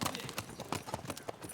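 Horses' hooves clip-clop on a central Montana ranch during a horse gathering, a quick irregular run of sharp hoof strikes at close range with no talk over them.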